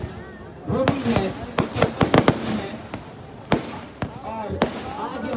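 Fireworks going off at the Dewa fair at a fireworks contest, sharp cracks and bangs scattered at uneven intervals among a noisy crowd, with voices talking throughout.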